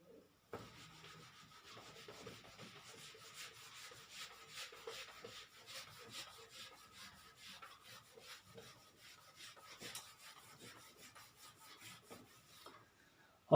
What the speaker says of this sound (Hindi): चलिए इसको रब कर देते हैं पहले।